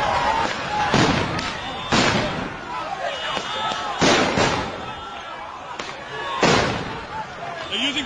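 Police flashbang grenades going off at an Oakland street protest, four loud, sharp blasts a couple of seconds apart, echoing among buildings, with voices in the crowd between them.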